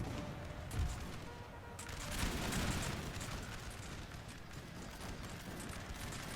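Massed musket volley fire on a Napoleonic battlefield in Napoleon Total War, a broad rolling crackle of many shots with a surge of louder bursts, set against dense, continuous battle noise.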